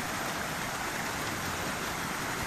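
Steady rain falls during the year's first thunderstorm, a dense, even hiss with no breaks and no talk, heard at moderate distance.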